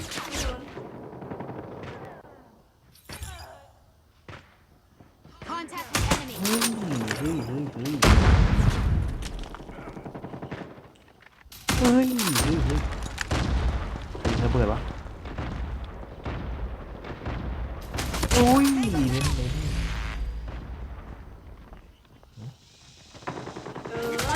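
Gunfire in Call of Duty Mobile, repeated sharp shots and booming blasts in bursts across the stretch, some close and loud, others further off, with voices talking over them.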